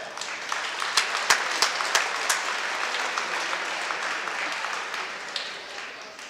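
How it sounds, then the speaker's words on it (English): A small crowd at a high school wrestling meet applauds, a dense patter of clapping with a few sharper claps standing out early, fading slightly toward the end. "Round of applause for that."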